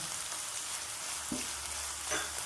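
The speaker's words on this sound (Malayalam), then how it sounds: "ഇനി അരിഞ്ഞു വെച്ച സവാള ഇതിലോട്ടിടാം. നന്നായി വഴറ്റണം." Chopped onions and green chillies sauté in hot oil in a pan for a savoury flattened-rice breakfast, giving a soft continuous sizzle with a couple of faint stirring scrapes, close by and without speech.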